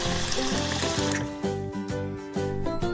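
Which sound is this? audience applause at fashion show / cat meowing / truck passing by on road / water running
water running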